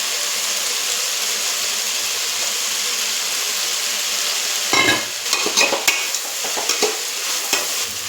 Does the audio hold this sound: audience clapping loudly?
no